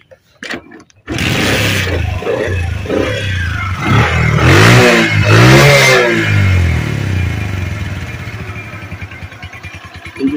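A used Bajaj CT 100 motorcycle with 17,455 km starts up and idles, then revs twice in loud rising surges before settling back to a steady close putter.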